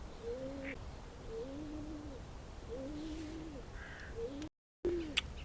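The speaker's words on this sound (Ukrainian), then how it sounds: "Я не знаю, чи чути вам зараз голуб, хтось тут сидить, кричить." Repeated cooing calls, most likely from a pigeon, come from outdoors in a city and repeat at a steady, unhurried rhythm of roughly one phrase per second against faint background hum, with no talking.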